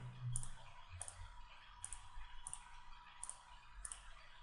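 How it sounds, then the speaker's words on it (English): A computer mouse clicks six times at an even pace, about one click every seven tenths of a second, crisp and close but faint over a low background hum. "And then I click OK."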